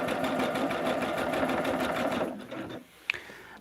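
A sewing machine quilting a jelly roll quilt runs in a fast, steady mechanical rattle for about two seconds, then slows and stops, followed by a single sharp click nearby.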